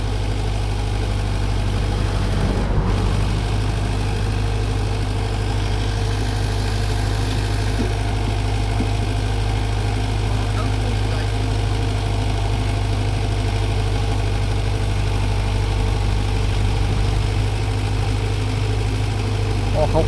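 A truck engine idles steadily at a six-wheel trailer during loading, a constant low rumble with vibration filling the whole stretch, a brief knock early on, and voices faintly in the background.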